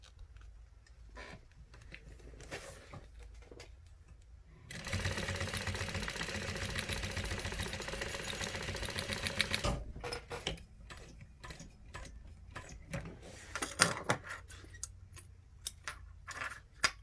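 A sewing machine stitches down the end of a zipper slider on a bag in a burst of fast, steady mechanical whirring that lasts about five seconds, framed by quieter clicks and handling taps.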